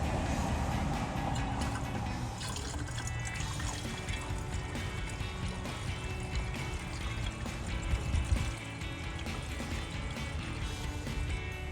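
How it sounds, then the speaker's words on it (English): Coolant pouring into the radiator of a Dodge Challenger, a steady liquid trickle and fill over a broad noisy wash that swells briefly near the end. "you want to put some more coolant in since you did lose some"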